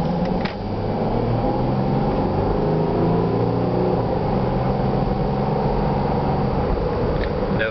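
Cabin drone of a 2007 Jeep Grand Cherokee CRD diesel on the move, a steady low engine and road rumble heard from inside, with a couple of faint clicks.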